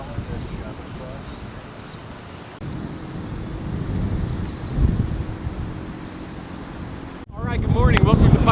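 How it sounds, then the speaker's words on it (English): Strong gusting wind on a mountain at the Pikes Peak International Hill Climb buffets the microphone as a broad roar that swells and eases, with people talking over it. "It's a windy morning."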